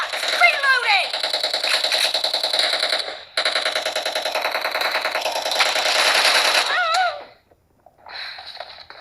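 Rapid automatic gunfire from a first-person shooter game, loud and continuous for several seconds with brief pauses, mixed with game voice callouts and effects, then cutting out near the end.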